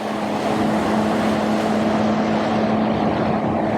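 Jet ski engine crossing Mount Maunganui harbour at cruising speed: a steady, loud droning hum with a constant pitch under rushing wind and water noise.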